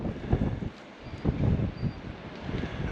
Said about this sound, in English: You can see the wind still blowing.